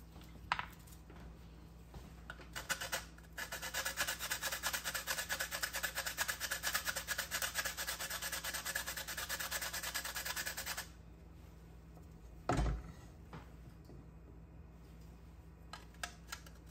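Whole nutmeg is scraped across a hand grater while porridge is being made, giving a steady, fairly quiet rasping that runs for several seconds and ends with a single soft knock.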